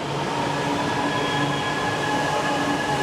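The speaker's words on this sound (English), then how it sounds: "So I'm going to record again when I get off the train." A metro train in a Chennai station gives a loud, steady rumble with a constant mechanical hum and faint tonal whine from the cars throughout.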